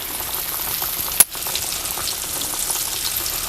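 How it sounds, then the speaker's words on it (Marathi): Pieces of rohu fish shallow-frying in oil, village style: a steady, close, even crackle of hot oil with one sharp click partway through, and no voices. "ह्या पद्धतीने आपल्याला सगळं तळून घ्यायचं."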